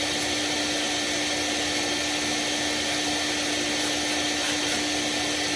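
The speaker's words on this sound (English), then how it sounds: "Let the vacuum sucks it right all back in." Shop vacuum sucking up dust during a Buderus boiler service, a steady, loud, unbroken whine and rush of air close to the mic with no talking.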